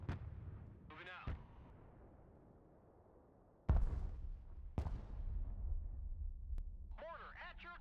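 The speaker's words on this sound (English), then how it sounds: "Mortar at your command, sir. Call for fire received." Mortar artillery in the Broken Arrow game thumps in heavy booming rounds, two loud blasts about a second apart after a quiet stretch, with short radio-style voice bursts heard at the start and end.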